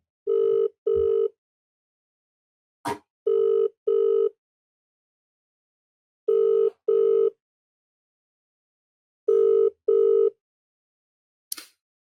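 Outgoing phone call tones: four pairs of steady double ring-back beeps spaced a few seconds apart, each pair clean and moderately loud, with brief clicks between them before the line cuts to voicemail.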